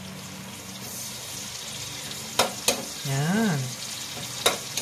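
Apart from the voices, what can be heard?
garlic and onion frying in a pan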